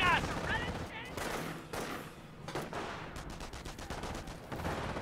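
An MG bunker machine gun fires in the video game Company of Heroes, a sustained burst of rapid shots over other battle noise, with brief speech at the start.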